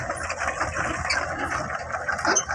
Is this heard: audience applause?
no